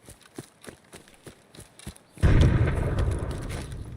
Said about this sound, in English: Explosions going on up here.